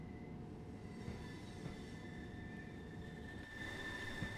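A Class 377/4 electric train in Train Sim World 2 rolls slowly into a platform with a steady low rumble, a faint high whine and soft wheel noise, heard from the cab.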